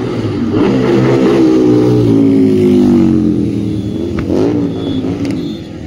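Motorcycle engines, including sport bikes such as a Street Triple and ZX-4R, roar close by, rising and falling in pitch as bikes pass continuously on a busy road.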